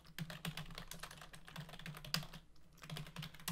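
Quick, irregular keystrokes on a computer keyboard, close and fairly quiet, with bursts of clicks and brief pauses in between, as if someone is coding.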